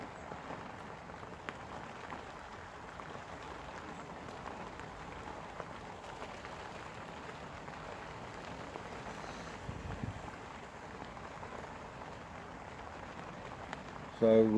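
Steady, faint rain patters on a fishing bivvy at a carp-fishing camp. It forms a soft, even hiss that continues without a break.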